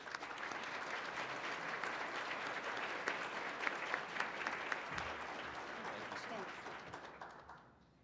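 A seated audience bursts into sustained, dense applause to welcome author Ed Humes onstage for a talk on trash; the clapping holds steady for several seconds, then tapers off at the end.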